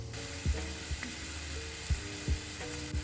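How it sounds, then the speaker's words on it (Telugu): Peanuts frying in a little hot oil, a soft continuous sizzle with a few light clinks and taps at irregular intervals, no voices. "ఈ ఆయిల్ కాస్త వేడెక్కిన తర్వాత 2 టేబుల్ స్పూన్ పల్లీలు వేసుకొని వేయించుకోవాలండి."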